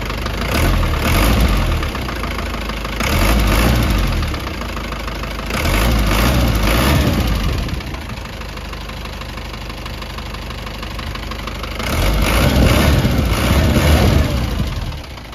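A noisy Isuzu 4BE1 diesel engine runs with a rough mechanical knock. It idles steadily and swells in several louder revving pulses, heard up close with no talking.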